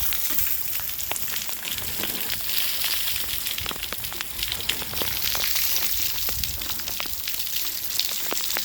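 Rainwater running off near an obstructed downspout on a carriage unit during a rain event, a steady broadband wash of falling and splashing water with scattered drips, fairly close and continuous, no talking.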